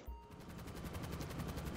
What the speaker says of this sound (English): So, this is the Avenger with guns. That sounds like a cannon to me.